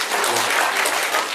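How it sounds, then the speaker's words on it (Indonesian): Applause from a church audience at a parish silver jubilee celebration, steady dense clapping sustained throughout, fairly loud and close, with no talk over it. "Tepuk tangan dong buat Ibu."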